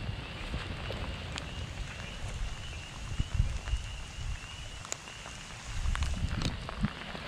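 Rain falling steadily outdoors on a farm, a continuous soft hiss with scattered drips and taps on surfaces, fairly close, with brief gusts of wind noise and no talking.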